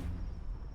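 A brief, deep rumbling boom of a meteor impact explosion in the video game Palworld, heavy and muffled, filling the short moment without any voices.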